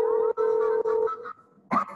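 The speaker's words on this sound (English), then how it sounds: "Nice ringtone." A cell phone ringtone plays during a call as a steady, loud electronic tone in a few repeated pulses with brief gaps, followed by a short, brighter tone.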